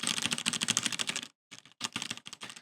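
Close, crisp keystrokes on a FaZe Clan edition mechanical keyboard with Cherry Red switches, a fast run of clacks, a brief pause, then another quick burst, with no talking.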